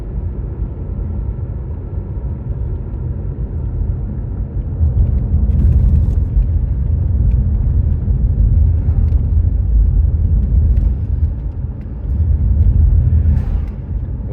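Car cruising along a road in the Eastern Sierra near June Lake, a continuous close interior rumble of engine and tires that swells louder midway and stays steady, no talk.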